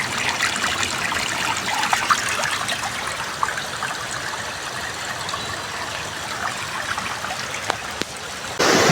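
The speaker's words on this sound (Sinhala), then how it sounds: "එතනින් මේ කුඹුර වලට වතුර යන" Water running along a small irrigation canal that feeds paddy fields below a house, a steady close trickling and gurgling flow heard alone with no voices throughout.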